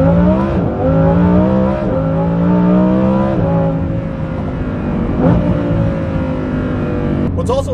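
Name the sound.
Lamborghini Huracan Performante exhaust revving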